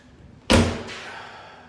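A cheap interior door is forced open during a home renovation: one sudden loud bang with a hard knock, then a short rattling decay over a faint quiet background.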